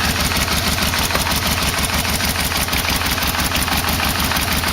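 A Yamaha VMax motorcycle engine idles close by, a steady, even low rumble with rapid regular pulses, running alone with no voices.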